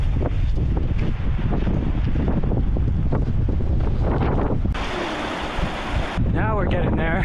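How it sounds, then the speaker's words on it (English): Strong gusting wind batters the microphone on a Patagonia hiking trail, a loud continuous rumbling roar throughout with a brief higher hiss partway through. "It's starting to get windier now."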